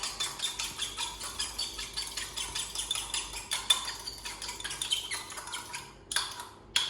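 A fork or whisk clicking rhythmically against a bowl while an egg is beaten for a pastry glaze, quick steady taps at moderate volume with no talking.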